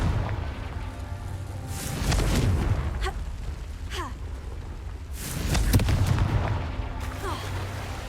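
Confringo fire-blast spells cast in Hogwarts Legacy, two heavy booming bursts a few seconds apart with crackling tails over a steady game ambience.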